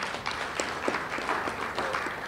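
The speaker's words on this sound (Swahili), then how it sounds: "Pigeni makofi tena jamani." An audience at a meeting breaks into renewed applause, a steady patter of many hands clapping together, fairly close and unbroken.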